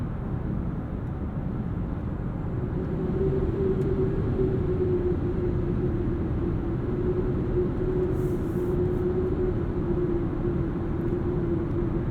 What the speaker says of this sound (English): And even at full throttle, it doesn't sound stressed or strained.